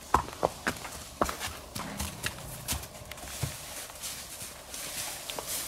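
Horse hooves clip-clop in an uneven walking rhythm on a hard surface at a farm, fairly close, with a few soft rustles between steps.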